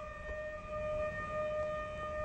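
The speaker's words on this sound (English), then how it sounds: "Sirens are blaring." A civil defense siren blares during the countdown to a static test of an Ares DM1 five-segment rocket booster. It holds a steady, sustained wail with several stable tones over a low background rumble, fairly distant and continuous.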